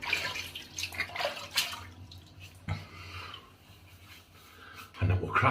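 Water splashed onto the face before a shave, quick close bursts of splashing and dripping with short quiet gaps between them, ending in a louder splash.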